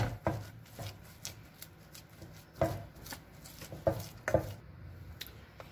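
Cooked beans are pounded to a paste, giving irregular dull thuds and soft squishy knocks spaced a second or so apart, close and moderately loud in a quiet kitchen.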